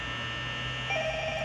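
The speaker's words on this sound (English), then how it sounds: "Oh, there's a phone ringing." A telephone rings in a comedy movie scene, a steady electronic tone that enters partway through over a low mains hum, moderately faint and with no talking.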